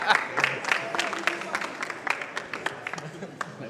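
Scattered audience clapping at an esports award ceremony for a Gran Turismo Sport 24H Spa race, sharp individual claps repeating unevenly over a few seconds while a voice talks over them.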